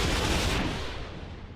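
Anti-missile turrets in the naval combat game From the Depths let off a loud, dense burst of gunfire that fades into a rumbling decay, with no voices.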